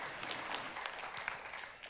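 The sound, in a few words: congregation applause in church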